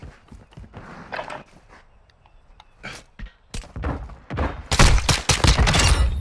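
Bursts of gunfire from Call of Duty: Modern Warfare II in a 2v2 gunfight, scattered single shots early, then dense loud volleys toward the end.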